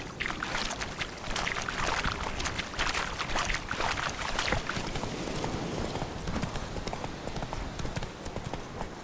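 Roach the horse galloping in The Witcher 3, a busy run of hoofbeats close and continuous, mixed with splashing water throughout.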